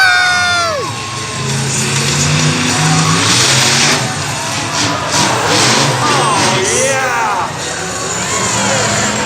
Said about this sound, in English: That's jumping a monster truck.